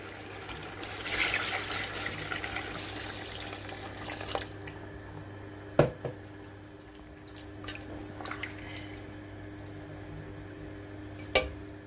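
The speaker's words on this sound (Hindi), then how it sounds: "अब हम इसमें डालेंगे 4 गिलास पानी।" Water pours into a cooking pot of browned meat for spinach and potato gosht, a broad splashing wash in the opening seconds followed by quieter drips and faint clinks, with no talk.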